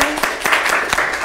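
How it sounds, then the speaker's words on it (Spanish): Studio audience at a comedy talk show applauding a guest: a brief, loud burst of clapping with a few distinct claps over a broad crowd wash. "Aplausos para Samantha"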